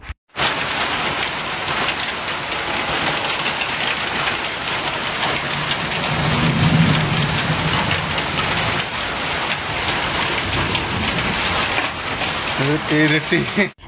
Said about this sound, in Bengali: বাইরে কিন্তু সন্ধ্যাবেলা থেকে ধামাকা পরিমাণে বৃষ্টি হচ্ছে